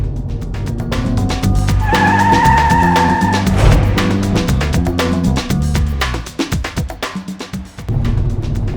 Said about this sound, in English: If you shift the car hard, you get that blah blah blah. It's this cool brap brap noise.